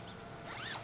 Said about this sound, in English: you want to unzip the door of both the tent and the insert.